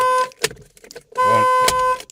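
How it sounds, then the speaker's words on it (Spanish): Two loud, sustained Chevrolet car horn blasts from a repaired steering-wheel horn button, separated by a short pause, with brief clicks between them. "Y va a sonar el claxon"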